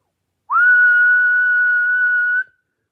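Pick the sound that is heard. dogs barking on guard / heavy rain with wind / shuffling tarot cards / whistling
whistling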